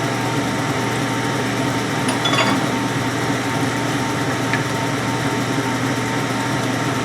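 A honing machine runs at a steady, loud, even drone as it hones a GM connecting rod for a 454 big-block Chevy build, close and continuous, with a few faint scraping accents.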